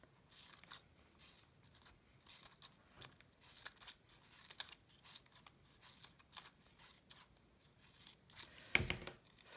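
Scissors cut white paper into curls for a sculptural mask: a close, quiet series of crisp, irregular snips and paper rustles, with one louder crunch near the end and no talk.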